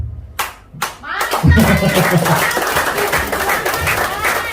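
An audience at a debt-solution seminar breaks into applause: a couple of isolated claps, then a dense burst of hand clapping with voices mixed in.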